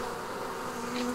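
A honeybee swarm being hived drones in a steady, close, dense buzz, with a rising higher whine near the end and no voices.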